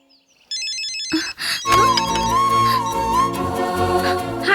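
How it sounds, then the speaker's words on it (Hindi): A phone ringtone plays loud and close, a bright repeating electronic melody starting after a brief quiet beep and continuing steadily to the end, with no talking. "फोन तो उठाओ।"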